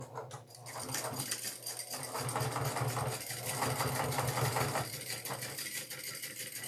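A sewing machine runs steadily, topstitching a clutch bag with a continuous rapid mechanical whir and needle clatter close by, with no pauses and no talk.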